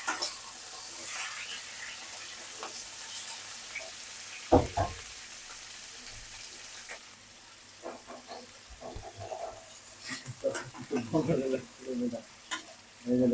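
Fish cooking in a pan, a steady soft sizzle with intermittent stirring clatter and louder scrapes toward the end, one sharp knock near the middle, with no speech.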